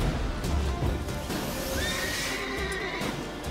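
In The Witcher 3 video game, a horse neighs in a long, rising and falling whinny over a muffled in-game background, with faint hoof clops near the start.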